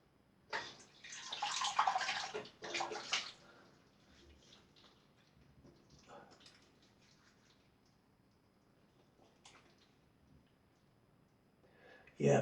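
Running tap water rinses a freshly shaved face, a close splashing burst lasting a few seconds before fading to quieter drips and soft handling noises.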